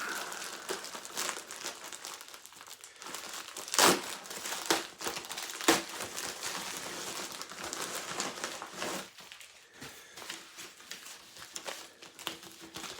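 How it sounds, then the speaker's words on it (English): Paper and plastic mailer crinkling and crumpling as a shipping envelope holding a purchased rare video game is opened, with a few sharp tearing bursts over about thirteen seconds of close handling, no talking. "we are going to open this up now to see what we got"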